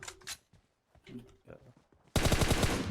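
Rapid bursts of video game gunfire crackle loud and close near the end, following a stretch of excited talk from players.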